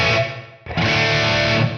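Distorted electric guitar through an amp modeler with reverb at half mix, a sustained chord that breaks off briefly and rings again, its tail washing out behind it.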